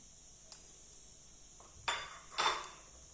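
A spoon or utensil clinks and scrapes against a bowl while flour, sugar, yeast and salt are mixed, with a faint tap and then two louder, brief clatters close by.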